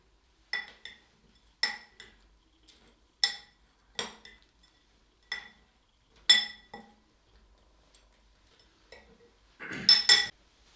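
Biryani masala spices with turmeric mixed in a bowl, heard as a series of sharp clinks of a spoon against the dish at irregular intervals, ending in a brief louder scraping rattle, with no talking.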